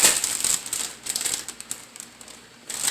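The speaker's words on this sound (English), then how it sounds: "You're just going to want to shake it up, mix it up around in the bag." A Ziplock bag holding a catfish bait mixture, Jello among its ingredients, is shaken, giving busy crinkling and rattling rustles close by in bursts that fade and return over a few seconds.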